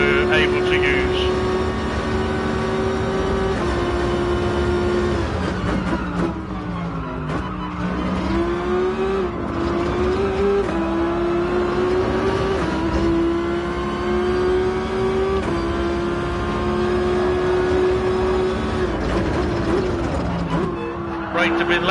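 A racing car in the Gran Turismo Sport video game holds a loud, steady engine drone with rising and falling pitch through shifts and braking. Someone talks over it throughout.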